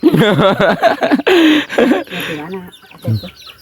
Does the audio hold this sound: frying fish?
no